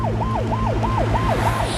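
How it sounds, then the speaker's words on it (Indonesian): An ambulance siren wails in a steady, repeating rising-and-falling pattern, loud and close throughout, with a low engine drone underneath and no voices. "Kemudian para penjaga membawa Chang-ho ke rumah sakit menggunakan ambulans"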